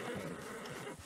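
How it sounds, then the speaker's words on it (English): A horse whinnies faintly in the Red Dead Redemption 2 video game, a brief quiet neigh set against soft background game ambience. "Pretty good horses too."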